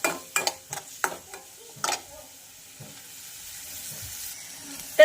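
Chopped onion and green chili sautéing in a pan toward a pinkish colour, with a few sharp stirring scrapes and clicks early on, then a faint, steady sizzle.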